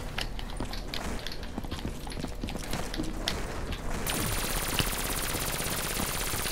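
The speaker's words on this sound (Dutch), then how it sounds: "Jij neemt zoveel schoten voor 1 zombie" Rapid bursts of gunfire from Call of Duty: Black Ops 3 Zombies crackle over a steady noisy background, with sharp repeated shots scattered throughout.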